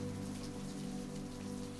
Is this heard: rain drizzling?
yes